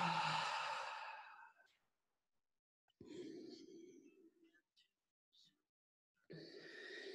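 Yoga breathing, heard as soft, close exhalations and breaths separated by silent pauses, with a breathy sigh at the start and end, under quiet, faint background.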